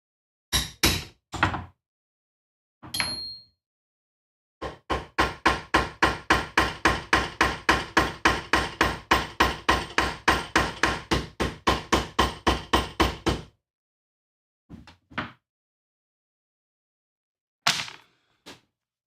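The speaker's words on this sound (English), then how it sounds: "That staccato effect using the last hammer blow of each of like 20 rivets" Hammer blows setting rivets in a leather armor cuirass: a few scattered strikes, then a long, steady staccato run of about thirty sharp, close knocks, followed by a handful of isolated taps.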